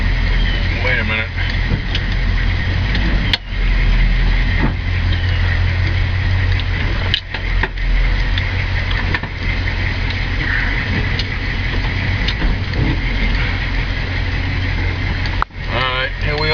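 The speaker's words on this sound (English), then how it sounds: "here we are backing out of our driveway." A 1970 Chevelle SS backs out of a driveway, its engine rumbling steadily and low throughout with a few sharp clicks, heard under people talking nearby.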